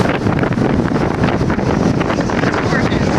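Strong wind buffets the microphone outdoors beside a highway in St. Petersburg, Florida, producing a continuous, loud low-end roar and rumble that fills the whole clip.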